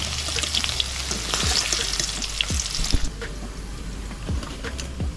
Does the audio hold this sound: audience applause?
no